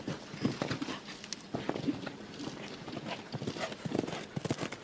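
Horse hooves clip-clopping on an arena course during an international show-jumping Nations Cup event at La Baule, a stallion moving in a steady rhythm of close, moderately loud thuds with crowd and commentary ambience behind.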